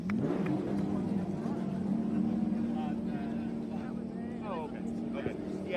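Race car engines at Watkins Glen rumble and rev together in a dense, continuous roar, with people talking over them.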